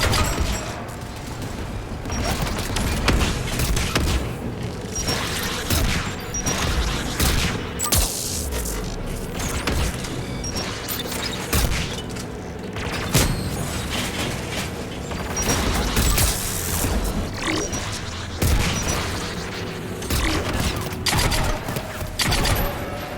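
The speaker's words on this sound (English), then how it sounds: "AA guns ahead of us" Sustained anti-aircraft gun fire in the Mass Effect 3 Legendary Edition Rannoch mission: dense, continuous volleys with heavy booms and mechanical clatter, loud and unbroken throughout with no talk.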